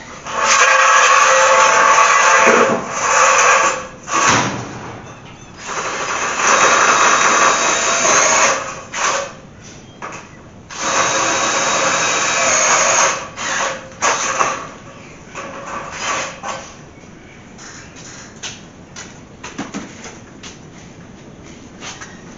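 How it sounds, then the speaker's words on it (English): A power drill whirs in several loud, close bursts of a few seconds each, drilling bolt holes in a garage door, with short pauses between them and no talking. "Let's go ahead and give a quick drill to these."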